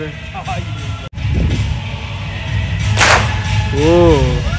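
A whip cracks at a circus show: one sharp snap stands out amid loud crowd noise and nearby voices talking and calling out.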